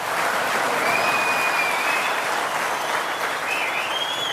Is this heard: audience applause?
yes